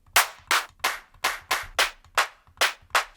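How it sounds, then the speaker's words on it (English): Layered clap drum sample in a speed garage beat, nine sharp bright claps repeating at a steady even pulse, each with a short decaying tail, loud and isolated with no talk. "let's add an extra layer of clap just to make sure"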